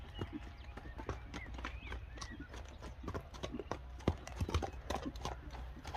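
Hooves of a light horse clip-clop in a quick, uneven rhythm of sharp knocks, fairly close, with faint background sounds between the steps.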